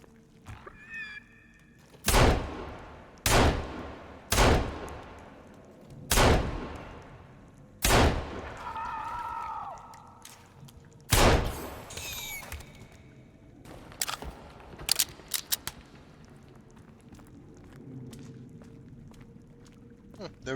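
Pistol gunshots in the Sons of the Forest survival game, about eight loud, sharp single shots spaced a second or two apart, followed by scattered thuds and rustling.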